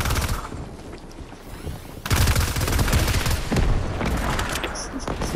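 Dense, rapid gunshots crackle in a box-fight shooter game, loud and continuous, with heavier booming shots layered in, a brief dip in the firing, then more, and a voice talking over the shooting.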